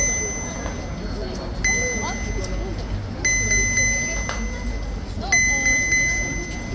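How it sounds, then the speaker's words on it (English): A camera gimbal malfunctions with an error, giving short electronic beeps in about three bursts spaced a second or two apart over a murmur of outdoor background noise and faint voices. "Apologies for the beeping sounds on my gimbal."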